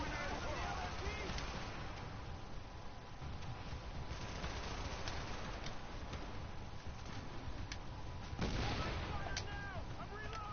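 Heavy gunfire in a video game, distant popping shots scattered under a constant wash of battle noise and talk, with a louder burst near the end.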